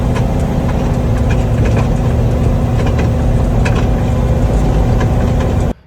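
Rattling, knocking engine noise from a turbo LS car with worn, floppy UPR lower control arms, loud and steady at close range with no talk, cutting off abruptly near the end.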